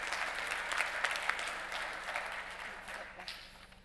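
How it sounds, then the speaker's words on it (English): An audience at a business conference session gives the panel a round of applause, a moderately quiet wash of clapping over a faint hum, with some voices mixed in as it winds down. "So please help me with a round of applause for the full panel this morning."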